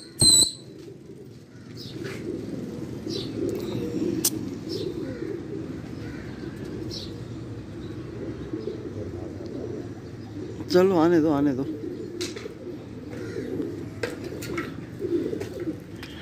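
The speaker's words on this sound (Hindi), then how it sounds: "ये हमारे कबूतर आ गए।" Domestic pigeons returning to their keeper coo in a low, steady murmur, with a burst of flapping wings partway through and someone speaking briefly near the start.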